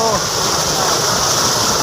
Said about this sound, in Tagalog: grabe lakas ng tubig dito